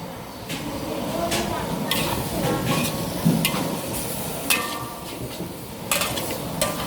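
Vegetarian mock-pork holy basil with fresh chili stir-fries in a pan; the spatula scrapes and clanks in a quick, irregular rhythm over a soft sizzle, close by, with someone talking throughout.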